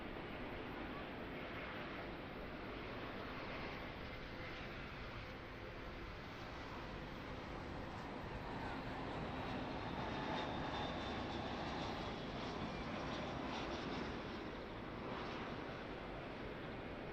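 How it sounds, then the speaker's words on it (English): Airbus A320 airliner engines at Auckland Airport, a steady broadband roar and whine heard from a distance that holds for the whole stretch with only slight swells. "A320 in from Wellington, flight 412, operated by Oscar X-Ray Juliet."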